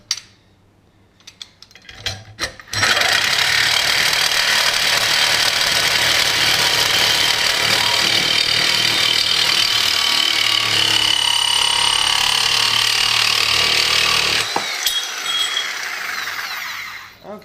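A reciprocating saw fitted with a rescue-grade blade rips through wood with a loud, harsh, continuous buzzing rasp. Brief clatter and handling noises come first, then the cut runs steadily for about twelve seconds before the saw stops abruptly.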